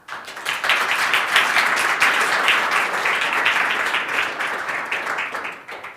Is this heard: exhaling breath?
no